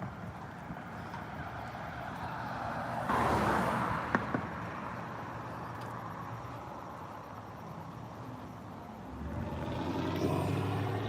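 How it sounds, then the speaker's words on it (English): A car engine rumbles steadily outdoors, a broad low drone that swells louder around the middle and again near the end, with wind noise over it and no talk. "Engine sound. I think that was that car that I was hearing when I started walking."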